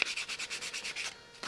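Sandpaper rubs a foam-plastic part of a Zeta Wing Z-84 EPO flying wing model in quick, even back-and-forth strokes, close and steady, with a brief pause near the end before scraping resumes; no talking.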